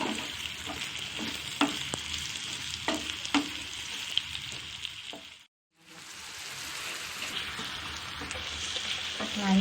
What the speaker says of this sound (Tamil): இப்போ வெங்காயத்தை போட்டுக்கலாம். வெங்காயத்தை நல்லா ப்ரௌன் கலராக வர்ற அளவுக்கு நல்லா வதக்கணும்.